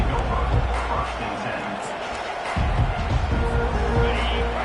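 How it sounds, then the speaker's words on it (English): Stadium crowd noise in the College Football 25 video game, a steady broadband roar that swells louder about halfway through, with no clear speech over it. "This crowd, full throat, spreading the eardrums and letting them know it's going to be a long day."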